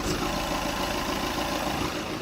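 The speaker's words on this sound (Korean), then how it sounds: "영상으로 엔진 소음 한번 담아보도록 하겠습니다." A diesel Audi New A6 sedan idles with its hood open, giving a steady, close, continuous engine hum and clatter that holds even throughout, with no talking.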